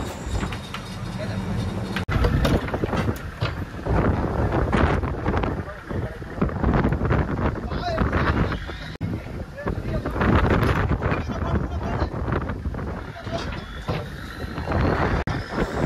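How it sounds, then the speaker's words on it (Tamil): Strong wind buffets and roars across the microphone throughout, gusting and rumbling, with people talking underneath. "காற்றுமே பார்த்தீங்கன்னா ரொம்ப ஹெவியாக உரைச்சி போச்சு"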